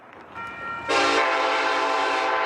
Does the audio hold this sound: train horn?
yes